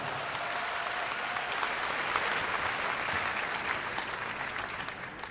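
Sustained applause from a large audience at the Miss Korea 2012 pageant final, even and moderately distant, continuing for the whole stretch.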